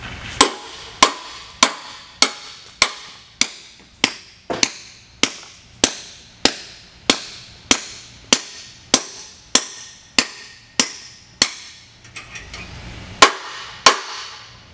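Anchors being hammered into concrete with a 2.5 pound hammer: a long series of about twenty sharp metallic strikes at a steady, even pace, each ringing briefly, close and loud with no voices.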